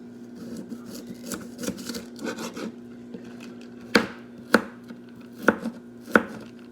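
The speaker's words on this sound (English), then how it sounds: "Cut up the onions." Onions are chopped with a knife on a board, first in quick soft light cuts and then in four sharp, evenly spaced knocks, close up with no talking.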